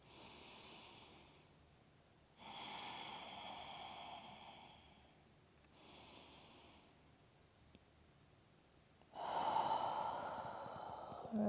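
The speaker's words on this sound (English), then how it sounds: "Couple breaths." Slow, deep yoga breaths during a vinyasa pose, long airy inhales and exhales in a quiet room, three or four soft swells with pauses between, the last one louder and closer.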